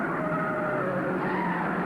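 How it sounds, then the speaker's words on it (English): A modified sportsman race car skids during a 1951 championship race at Langhorne, giving a continuous loud, roaring screech with engine noise and no distinct impact. "It's a wreck. He turned over. Another car hits him."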